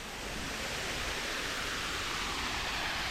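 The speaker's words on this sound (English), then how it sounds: "Look at this waterfall." A waterfall on a hiking trail in Governor Notte Park, North Providence, Rhode Island, gives a steady broadband rush of falling water, close and even throughout, with no voices.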